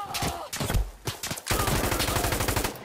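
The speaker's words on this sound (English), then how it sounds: "Here I get shot twice and actually manage to survive." Gunfire in the Insurgency Sandstorm video game: a few sharp separate shots early on, then a sustained burst of rapid automatic fire, loud and close.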